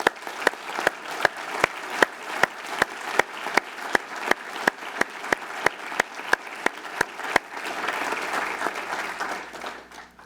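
Audience applause at Utah Valley University's 2017 State of the University address: a steady, evenly spaced run of sharp claps rides over a bed of crowd clapping, which swells into a fuller, denser ovation near the end.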